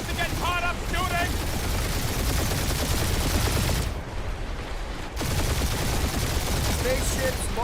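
Rapid gunfire from a spaceship dogfight in the Guardians of the Galaxy video game, dense continuous bursts with a brief lull midway, loud and close, with voices talking over it.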